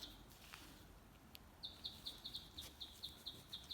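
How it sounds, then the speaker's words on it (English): A small bird tweets outside in a quiet setting, a rapid series of thin, high chirps repeating at an even rhythm, faint and somewhat distant. "Can you hear the bird tweeting outside?"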